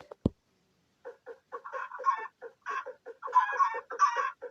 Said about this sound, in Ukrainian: тепер тут по полю бігають курки